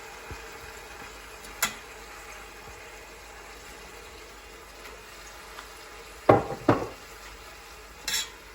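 Marinated mutton is tipped into fried onions in a pot for biryani, giving a soft low sizzle with a few sharp clanks and scrapes of a spoon against the pot near the end.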